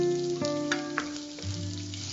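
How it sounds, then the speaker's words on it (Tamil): Chopped onions sautéing in hot oil in a pan for Andhra pesarattu dosa, a gentle steady sizzle with a few light stirring taps, heard close and fairly quiet alongside a faint sustained tone, without talk. "இப்ப வெங்காயம் வதங்கிட்டு இருக்கு"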